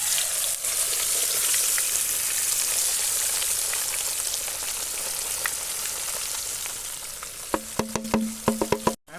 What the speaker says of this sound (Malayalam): നമ്മുടെ മീൻ ചട്ടിയിൽ കിടാൻ പോട്ടെ. എണ്ണ നന്നായി ചൂടായി കിടക്കുന്നുണ്ട്